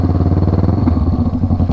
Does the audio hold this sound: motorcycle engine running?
yes